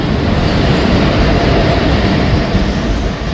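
Train rumbling at a small railway station on the Karnataka coast, between Murudeshwar and Udupi, a loud steady broadband roar with no talk, holding constant throughout.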